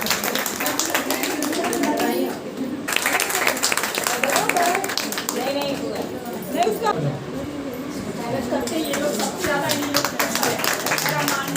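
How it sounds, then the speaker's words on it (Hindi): Audience applause at a women's honour award ceremony, a dense wash of clapping running throughout and mixed with voices talking over it. "जोरदार तालियां"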